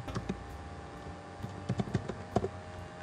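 Close computer-keyboard typing on a Mac comes in a few scattered clusters of soft clicks with pauses between them, quiet, with no talking.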